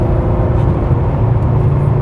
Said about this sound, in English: Still get that flat six noise